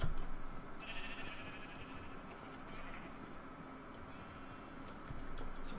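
Sheep bleat on a sheep farm in a video game, with one brief cry standing out early over a steady background of ambient noise and faint clicks.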